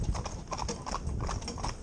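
Hooves of young green ponies pulling a mixed four-in-hand carriage, a rapid, continuous clip-clop of many feet close by, with rumbling wheels underneath and no talk.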